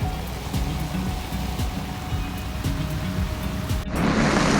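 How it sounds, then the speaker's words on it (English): Heavy rain pours steadily during a storm on a rocky shoreline, a dense continuous hiss that swells louder near the end. "It is pouring."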